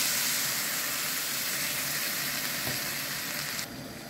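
Still water poured into a chickpea curry pan over medium heat, giving a steady close hiss and sizzle throughout that eases off slightly near the end.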